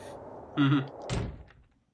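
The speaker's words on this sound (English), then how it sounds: "Flushed Mayuzumi closed the door." A door swings shut in a visual novel game, a single soft thunk followed by a brief latch knock, close and clear against near silence.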